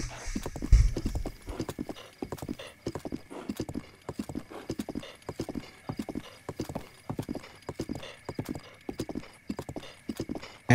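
Steady, rhythmic clip-clop of horse hooves trotting at a regular pace in the video game Zelda: Breath of the Wild, close and continuous throughout.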